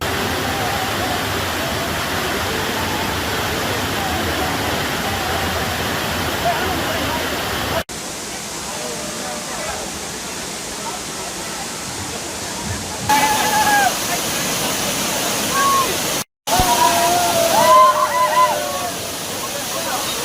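Kaviyaruvi, also called Monkey Falls, is a waterfall near Pollachi that roars steadily and loudly, a close, dense rush of falling water. Voices sound faintly under it, and the sound cuts out briefly twice.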